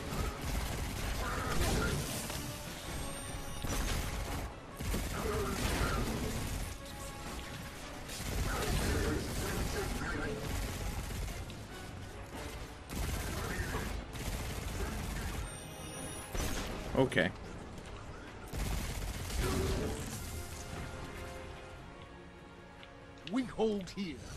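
Gunfire and mechanical clatter from the video game Destiny 2 during a first mission, with dense bursts of shots and metallic ratcheting mixed with game effects, and a voice talking over it.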